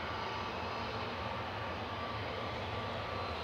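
An Air Dolomiti airliner operating for Lufthansa at Manchester Airport, its engines giving a steady, broad roar that holds at a constant level throughout, distant and fairly faint.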